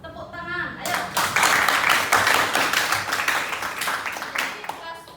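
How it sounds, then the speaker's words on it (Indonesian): Students in a classroom break into a dense round of clapping, loud and sustained for several seconds after a brief spoken prompt, with children's voices mixed in. "Tepuk tangan."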